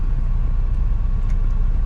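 A truck rolls along an icy winter road, its engine droning under a constant low road rumble, close and steady, with no talk.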